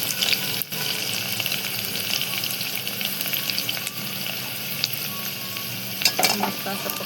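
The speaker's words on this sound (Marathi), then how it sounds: "तर लसूण पण टाकून घेतलं बघा डाळीत." Crushed garlic and green chillies sizzle in hot oil as a tempering for dal, a steady soft frying hiss with occasional small pops and clinks, no talking.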